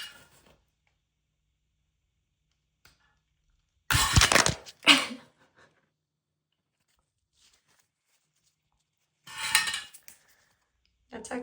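Scissors or a utility knife snipping the tip off a plastic caulk tube for a shower or bathtub, heard as two short, close, crisp bursts of cutting and handling noise separated by long silence.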